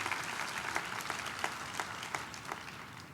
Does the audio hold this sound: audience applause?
yes